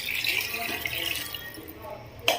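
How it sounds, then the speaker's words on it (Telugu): Water pours into goat head curry in a pressure cooker, a brief splashing rush close by that fades out, ending with a single sharp knock. "ఇలా కొంచెం మగ్గిన తర్వాత ఇందులోకి వాటర్ని యాడ్ చేసుకుందాము"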